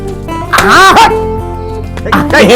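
A black dog lets out two loud, close bursts of barking and yelping, with a whining, sliding tone between them.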